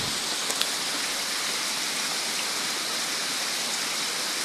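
Floodwater overflowing during heavy rain rushes in a steady, loud, broadband roar, like a torrent or waterfall, continuous and close throughout with no talk.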